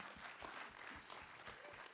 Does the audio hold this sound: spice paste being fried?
no